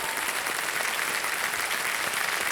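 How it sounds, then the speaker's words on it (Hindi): Studio audience applause on the KBC game show with Amitabh Bachchan, a dense, steady wash of many hands clapping at even loudness throughout, with no voices over it. "तालियां बज जाएं एक बार फिर से इनके लिए।"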